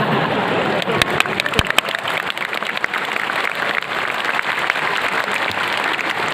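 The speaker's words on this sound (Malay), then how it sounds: "tepuk tangan yang meriah tadi" Lively applause from a large crowd at a religious lecture in Kota Kinabalu, steady dense clapping close and loud throughout, with a few sharper individual claps standing out.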